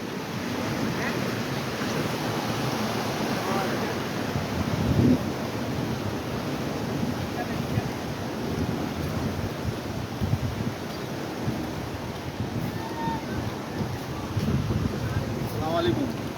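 Kushiyara river water rushes through a sluice gate into a haor in Sylhet, a steady loud roar with wind buffeting the microphone and a voice talking over it.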